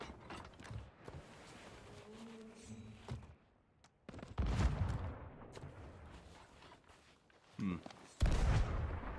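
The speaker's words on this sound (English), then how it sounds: "Shots fired." Video game gunfire: several loud, sharp shots and bursts ring out between quieter mechanical clatter, close and punchy, with a few gaps of near silence between them and a voice talking now and then.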